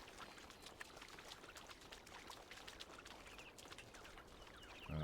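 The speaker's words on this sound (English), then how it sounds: "So this is just water." Continuous trickling flow of water in the video game Talos Principle 2, a steady splashing wash with faint bird-like chirps over it, no talk.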